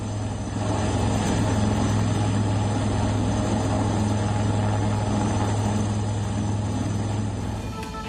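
A rescue helicopter drones loud and steady overhead during flood and cloudburst rescues in Himachal Pradesh, its rotor hum continuous and unbroken for several seconds, with no voices.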